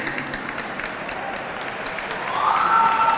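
Audience applause for the Hispanic Advisory Board members standing to be recognized at a Hispanic Heritage Month opening ceremony, a steady patter of clapping that swells louder toward the end.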